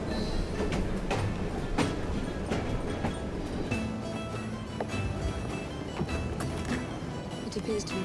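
A steam-era train in Assassin's Creed Syndicate rumbles along steadily with a low rolling drone and rhythmic clacks and metallic clicks, continuous and fairly close throughout.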